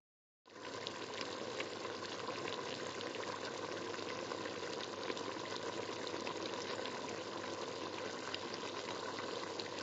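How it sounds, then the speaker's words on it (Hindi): Curry water boiling in a kadhai for mutton kofta, a steady, even bubbling hiss that starts abruptly and holds without change. No distinct splashes of meatballs being dropped in stand out. "जैसे ही पानी को बॉयल आए इसमें कोफ्ते एक एक करके डाल देंगे।"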